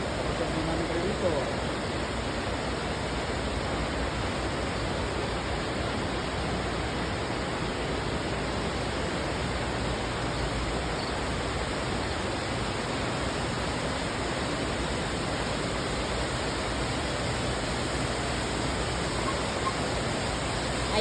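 Falling water at the Sam's Town waterfall show, a steady broad rush that fills the whole stretch evenly, with faint voices mixed into the wash.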